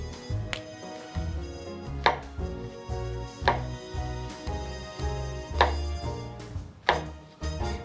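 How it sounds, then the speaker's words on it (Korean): Garnish vegetables being cut on a cutting board for beef bourguignon, about ten crisp knife chops landing against the board at an uneven, unhurried pace, close and clear with no talk. "가니쉬용 야채도 먹기 좋은 크기로 썰어주시고"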